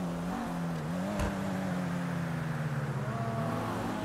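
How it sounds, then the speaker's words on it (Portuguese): A car engine in the GTA RP video game runs with a steady, low hum that changes pitch a little, fairly quiet and continuous, with a brief click partway through. "É que o som tá ligado desse teu carro aí."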